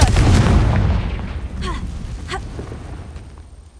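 A Confringo explosive spell blasts in Hogwarts Legacy, a loud booming burst that rumbles and fades, followed by a few faint sharp cracks.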